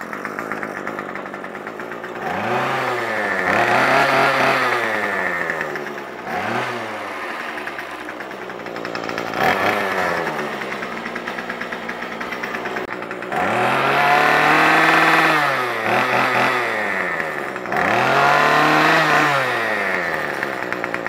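Small gasoline engine on a free, formerly non-running machine, sputtering and revving in repeated bursts that rise and fall over about twenty seconds, loud and close, with brief dips between pulls of the throttle.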